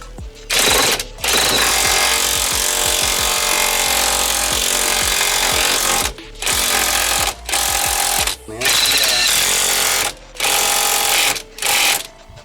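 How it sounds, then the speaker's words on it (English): A power tool rattles in long loud bursts with short pauses while bolts are tightened during a coilover fit on a Mitsubishi Evolution 7, close and harsh. "You can see Chaz just finishing off the last little bolts"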